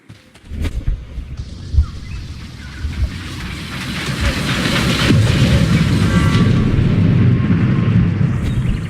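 A train running on rusted rails toward the mines in the Sherlock Holmes Crimes and Punishments game: a deep rumbling roar that builds over the first few seconds, then holds loud and steady with a few sharp knocks early on.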